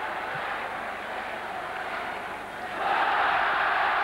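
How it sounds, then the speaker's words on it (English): Crowd at a 1988 Olympic boxing bout chanting USA, a broad arena roar that holds steady and then swells noticeably louder partway through. "And the chants of USA, USA"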